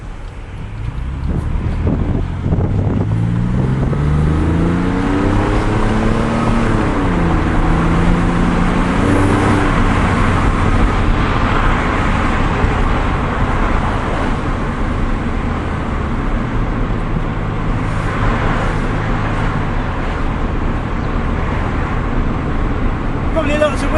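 Porsche 911 996.2 Tiptronic with a sunroof and Dansk exhaust driving, a loud steady engine drone rising and shifting through gears from inside the car, with heavy wind noise and someone talking over it.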